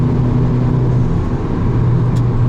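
A 300-horsepower Volkswagen Jetta GLI engine roars steadily close by, a loud, continuous low drone as the car accelerates.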